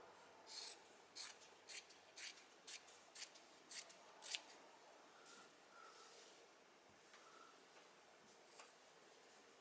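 Scissors snip through flannel shirt fabric in a steady run of about ten crisp cuts. The snips sound close and soft over quiet room tone, then fade into faint rustling.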